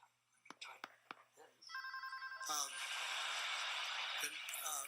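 A telephone rings with a repeated electronic trill, preceded by a few sharp clicks and followed by noisy rustling and faint voices.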